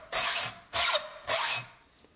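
A hacksaw cuts with full-length strokes on a pool ball threading job. Three rasping strokes come in an even rhythm, close and distinct, with no talk.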